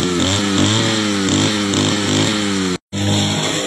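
A gasoline grass cutter engine starts on one pull and runs, a loud, steady buzzing drone with a fluttering pulse that cuts out for an instant near the end and then resumes.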